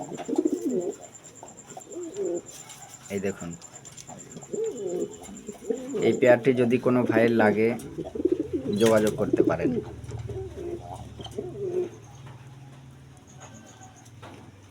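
Pigeons kept as a pair coo in soft, throaty repeated calls nearby, with someone talking over parts of it and fainter cooing continuing after he pauses.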